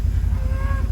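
A low moo carries over a rumbling, noisy background, with a brief rising cow call heard partway through.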